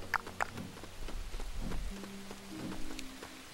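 Rain falling in the Lego The Hobbit video game, a steady soft patter across the ground with a few sharper drips and low rumbling underneath, continuing throughout.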